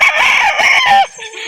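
Chickens at a poultry sale in Calauan, Laguna, with a loud, close rooster crow dominating and clucking fowl around it, the crow breaking off abruptly near the end.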